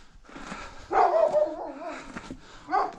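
A dog on a winter village farm in Erzincan, Turkey, barks and whimpers close by, with a rising whine and short yips in a few bursts, and no talk over it.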